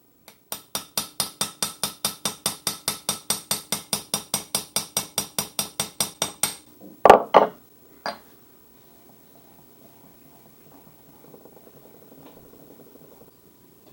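A hammer taps steadily on a Japanese hand plane blade to push out its back edge, about thirty crisp, evenly spaced metallic strikes, close and alone, followed by a few handling knocks and quiet.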